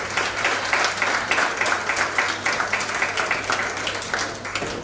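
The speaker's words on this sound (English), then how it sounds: "Give yourselves a round of applause." Audience at a graduation reception for special needs students breaks into sustained, dense applause, many hands clapping at once in a steady roar with no speech.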